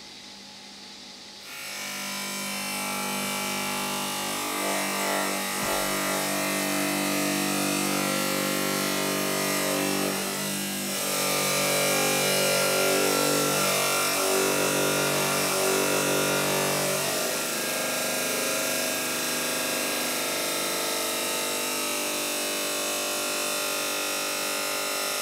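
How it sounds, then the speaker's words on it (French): A tile saw fitted with a Norton Extrême Grès Silencio 350 mm diamond disc cuts a 3 cm granite slab, a loud, steady, continuous grinding whine held close for the whole stretch with no voices. "Jérôme va réaliser une dernière découpe sur une dalle granit de 3 cm."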